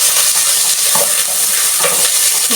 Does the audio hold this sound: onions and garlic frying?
yes